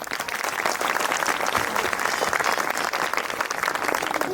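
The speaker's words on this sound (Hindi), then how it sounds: "इनके ताली बजाएं भाई।" Dense, sustained applause from a church congregation for a visually impaired musician playing an instrument at a Christmas service, loud and continuous throughout with no break.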